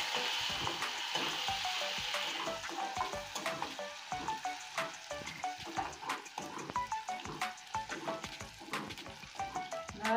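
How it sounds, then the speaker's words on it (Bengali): Crushed garlic fries in hot oil for a potato curry, giving a close, steady sizzle with crackling pops and intermittent stirring scrapes throughout. "রসুনটা লাল করে ভেজে নেব।"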